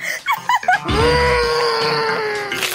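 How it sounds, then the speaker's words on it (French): A girl lets out one long, high, sustained scream after a few short vocal sounds, loud and close. "Arrête de crier."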